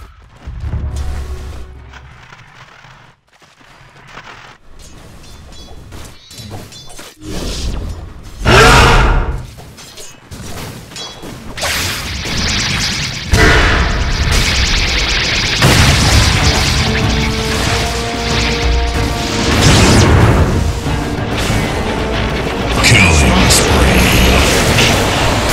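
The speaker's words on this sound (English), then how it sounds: "Radiant's top tower is under attack!" Tower under attack in a Dota 2 match at the Manila Major, with dense, loud combat audio of repeated booms, thuds and crashing impacts that build into a continuous clatter, with voices heard intermittently in the mix.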